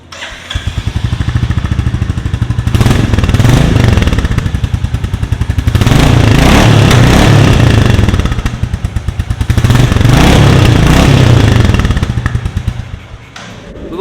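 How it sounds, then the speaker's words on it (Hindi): A Royal Enfield Classic 350 Next Gen motorcycle idles and revs through its shortened exhaust silencer, a loud, close, steady thumping that swells several times and settles back, with no speech. "साइलेंसर की दोस्तों बात ही कर रहे हैं तो क्यों ना इसका साउंड सुना जाए।"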